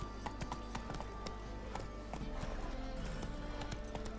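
Roach the horse's hooves clip-clop at a steady, even pace in The Witcher 3, close and clear over a low ambient hum.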